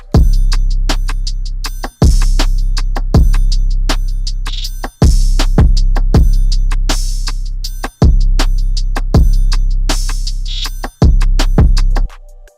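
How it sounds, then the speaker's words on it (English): A loud programmed hip-hop drum loop with heavy booming kicks, crisp snares and rapid hi-hats, repeating in bars with no one speaking. "all together, the drums will sound like this."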